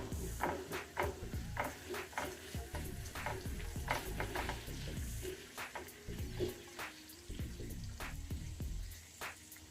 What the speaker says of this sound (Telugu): అల్లం వెల్లుల్లి పేస్ట్ వేసి కొంచెం వేయించుకోవాలి.